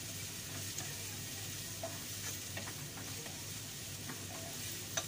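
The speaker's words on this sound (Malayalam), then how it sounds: "ഇതെല്ലാം കൂടി നല്ലോണം ഒന്ന് മിക്സ് ചെയ്തു കൊടുക്കാം" Onions frying with salt in a pan for Hyderabadi beef biryani give a steady, soft sizzle, with faint scattered ticks from stirring.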